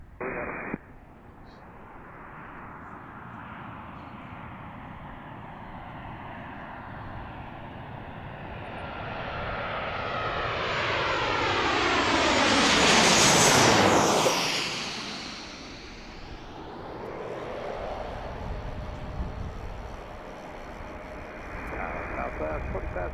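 A Southwest jet airliner departs Washington National (DCA), heard from Gravelly Point as a roar that swells to a loud, close overhead pass with a falling pitch sweep, then fades, while radio voices talk underneath.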